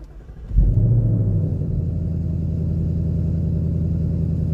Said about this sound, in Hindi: ये इस गाड़ी का स्टार्टअप